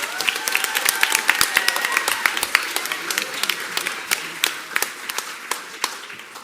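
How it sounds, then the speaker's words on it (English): Middle school pops concert crowd claps for a choir performer, sharp individual hand claps standing out over a thinner spread of applause that gradually tapers. "Can I have a big round of applause for Brittany Perkins?"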